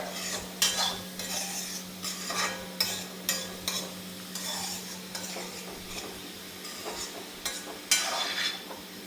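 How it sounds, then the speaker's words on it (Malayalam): A utensil stirs carrot and papaya thoran with turmeric in a pan in a Kerala kitchen, giving repeated scraping, clinking strokes over a steady sizzle that keep coming at an uneven pace, close and fairly loud. "എല്ലാത്തിനും മഞ്ഞപ്പൊടി ചേർക്കണം. എന്നിട്ടൊന്ന് ഇളക്കാം."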